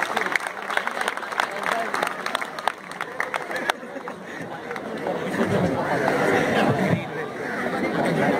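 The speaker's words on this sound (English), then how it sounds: "Please give them a huge round of applause." A school audience at a farewell function applauds the judges, clapping in a mix with loud crowd chatter and voices, which continue after the clapping fades.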